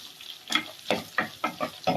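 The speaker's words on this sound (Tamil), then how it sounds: "சின்ன வெங்காயம் நல்லா சின்ன வெங்காயம் வதங்கட்டும்." Shallots and green chillies sautéing in a pan, soft sizzling with a series of stirring scrapes and clatters at an uneven rhythm, close and moderately loud, with no voices.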